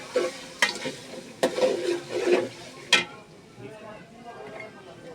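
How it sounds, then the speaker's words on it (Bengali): Mutton biryani ingredients stirred in a frying pot, a few sharp scrapes and clacks of a spoon over a low sizzle, close by, with a voice talking in between. "এখন ভালোভাবে নেড়ে এটার সাথে মিশিয়ে নেবে"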